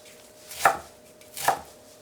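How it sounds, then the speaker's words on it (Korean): Two distinct knife chops through chwinamul (aster scabra greens) strike a cutting board about a second apart, close and crisp in a quiet room. "추를 좀 썰어주세요. 이렇게."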